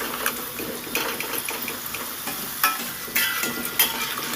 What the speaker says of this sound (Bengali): দেখুন আমি ঢাকাটা খুলে দু চারবার আরও নেড়ে দিয়েছি আলুটা লাল হয়ে ভাজা হয়ে গেছে